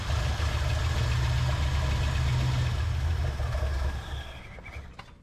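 A 1978 Ford F250 4x4 truck engine runs steadily with a loud, deep rumble close by, fuelled through the carburetor, then fades and drops off near the end.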